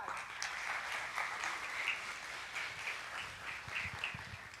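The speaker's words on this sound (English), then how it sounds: "Let's give them a round of applause." Audience applause at a supporter orientation event in a large room, steady crowd clapping with a few louder bursts, continuous and fairly distant throughout.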